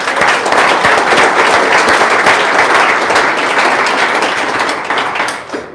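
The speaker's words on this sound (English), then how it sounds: "Let's give them a round of applause." A crowd at a national masters hockey tournament briefing applauds loudly with dense, steady clapping that holds for several seconds and then begins to taper off at the end.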